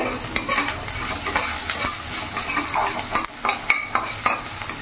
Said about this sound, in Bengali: একটু ভাজা ভাজা করে নেবো যাতে কাঁচা গন্ধটা চলে যায়।